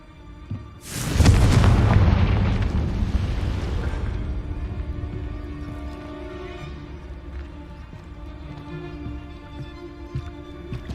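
A Confringo fire spell blast in Hogwarts Legacy: one loud, close, booming explosion that hits hard and then rumbles away over several seconds into quieter background ambience.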